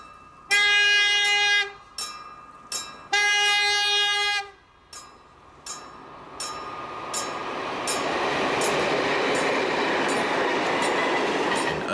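A freight train hauled by a former DB Class 220 diesel locomotive sounds several long, loud horn blasts with short toots between, then the rumbling diesel and rolling wagons build into a steady roar.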